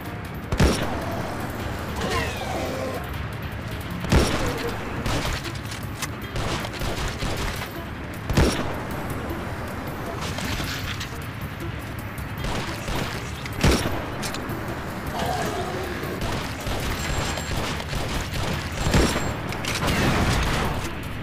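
Heavy gunfire from a big gun in the mobile shooter Dead Trigger 2: sharp, loud shots at irregular intervals over a dense, constant rumble of game noise, with no voices.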